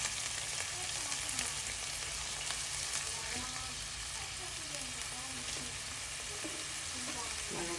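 A pot of Thai chicken curry with papaya bubbles and sizzles steadily at close range, a dense continuous hiss with scattered soft pops and faint speech in the background.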